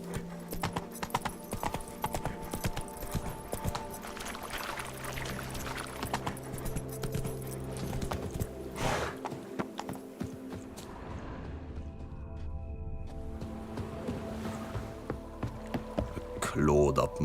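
Roach the horse galloping in The Witcher 3, with rapid, rhythmic hoofbeats clopping steadily up close amid game ambience and faint background voices.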